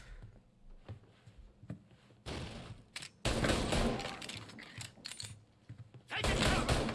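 Gunfire in the video game Mafia Definitive Edition, scattered shots then dense bursts of rapid firing, loud and close with no talk.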